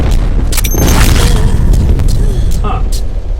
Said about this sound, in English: Firing friendly artillery.